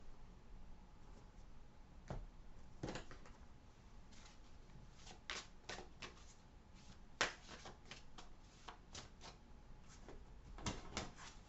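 Tarot cards are shuffled and handled up close, soft scattered riffles and flicks coming in uneven short bursts, fairly quiet, with no talking.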